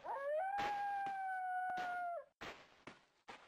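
Dogs howling in SurvivalCraft, a survival video game: a loud, sustained howl lasting about two seconds, followed by short yelps and sharp noises.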